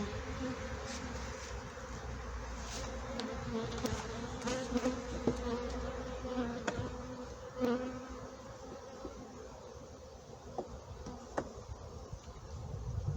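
Many honeybees drone around a hive during honey harvest in a steady dense buzz, with individual insects zipping closer now and then over the continuous hum.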